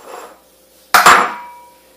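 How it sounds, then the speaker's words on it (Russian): An egg is cracked with a single sharp knock close up, with a short double rap and then a brief ringing decay. "разбиваем яйцо."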